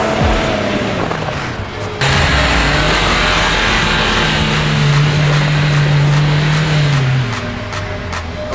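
An Infiniti FX50 V8 engine roars loudly and steadily as it accelerates, its drone shifting in pitch, with road and wind noise throughout.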